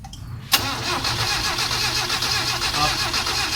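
A car engine with heavy blow-by smoke from the breather cranks and catches, then settles into a steady, loud rumbling idle close by.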